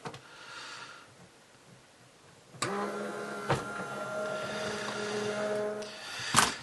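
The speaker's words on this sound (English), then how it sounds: "then I'm going to feed it through my machine" A Spellbinders Betterpress letterpress machine feeds a plate through with a sudden mechanical whir and hum that runs for several seconds, marked by a couple of sharp clunks, after a quiet stretch.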